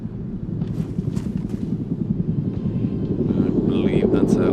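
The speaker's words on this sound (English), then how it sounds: "I believe that's a helicopter." A helicopter in the survival game DayZ, a steady low rotor drone that grows gradually louder as it nears overhead, with a person talking over it.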